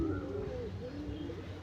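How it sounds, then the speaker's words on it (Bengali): Domestic pigeons kept by a fancy-breed hobbyist coo softly and continuously, with low, rolling, overlapping calls and a few faint chirps over a steady ambient hum. "এই যে পায়রা দেখতেই পাচ্ছেন,"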